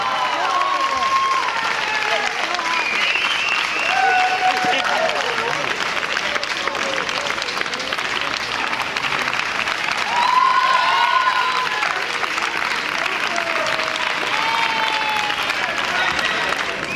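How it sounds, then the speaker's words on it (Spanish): Sustained applause from a crowd greeting the Best in Show winners, an American Staffordshire Terrier among them, at a national dog show in Castellón; dense steady clapping runs throughout with a voice speaking over it. "Un fuerte aplauso para los tres"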